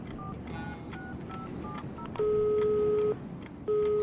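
Telephone keypad dialing tones from a horror video game, a quick string of short beeps followed by two long steady tones with a brief gap between, clear and alone over a low background hum.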